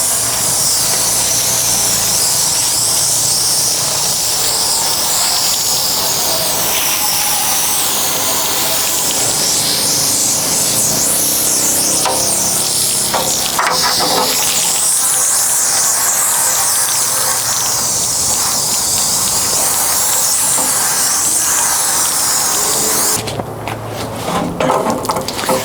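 Water spray rinsing a rusty metal patch panel in a fabrication shop, a loud, steady hissing rush that runs unbroken for about 23 seconds before cutting to a shorter burst.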